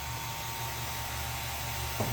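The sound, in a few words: vacuum pump evacuating Porsche 944 air conditioning system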